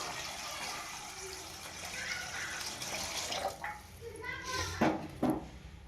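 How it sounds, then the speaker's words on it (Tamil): Water is poured into a cooking pot to start sugar syrup for gulab jamun, a soft continuous splashing and gushing that ends in a few louder splashes, with a voice speaking over it. "அதுக்கு முன்னே தண்ணீர் ஊற்றிக்கலாம்"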